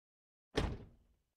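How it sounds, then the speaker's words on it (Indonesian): A single car door slammed shut, a sharp thud with a short ringing decay, heard alone against silence. "Nutup pintu mobil."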